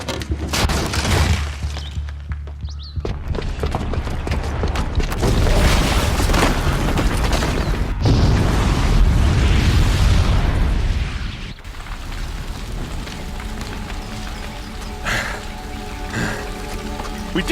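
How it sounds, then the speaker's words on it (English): A booby-trapped bomb goes off in Horizon Zero Dawn, a long rumbling explosion that builds into a heavy sustained roar with crackling debris like pouring rain, then settles into lingering rumble and scattered clatter. "the booby trap on the bomb downstairs is gonna get set off"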